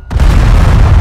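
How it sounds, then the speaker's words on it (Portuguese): Explosion in the video game GTA V, a loud sudden boom that rolls into a sustained low rumble, heard alone. "eu achei que o jogo ia até crashar com essa explosão"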